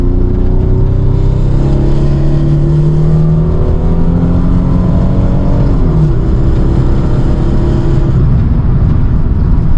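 A naturally aspirated automatic Nissan 300ZX Z32 accelerates hard from inside the cabin, the engine droning loud and close as its pitch climbs, dips at a shift, then rises again, with no talk over it.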